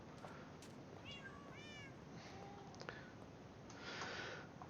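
A cat meows in the Minecraft video game, giving two or three short, soft mews over a steady, busy game background with no speech.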